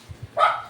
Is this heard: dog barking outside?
yes